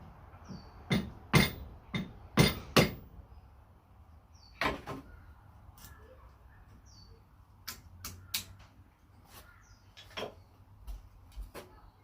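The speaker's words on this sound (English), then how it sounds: "So what I'm going to try and do is split it. I'll split it from the other side, just kind of keep going" A piece of timber being split with sharp cracking knocks, a quick cluster of loud strikes followed by scattered sharper snaps and taps outdoors at a camp build, with quiet stretches between.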